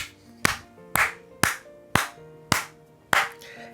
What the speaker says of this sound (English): have to start off this video with a round of applause